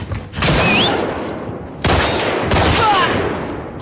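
Gunfire in the video game The Last of Us Part 2, loud bursts of rapid shots in two long volleys separated by a brief pause, with whistling ricochet-like tones riding over the din.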